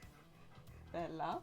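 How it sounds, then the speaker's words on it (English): A pet dog named Bella panting heavily nearby in short, rapid breaths, loudest near the end, with a voice briefly speaking over it. "Excuse my dog's breathing."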